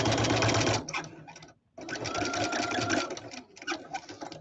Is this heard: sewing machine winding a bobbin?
yes